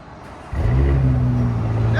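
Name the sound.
Porsche Cayenne S 2.9L twin turbo V6 straight pipe exhaust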